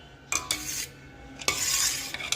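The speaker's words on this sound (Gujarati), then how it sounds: "બીજે દિવસ સવારે સારી રીતે આમ ચમચો ફેરવી" A spoon stirring sweet raw-mango pickle in a metal pot, several scraping strokes and light clinks against the vessel, close and fairly loud.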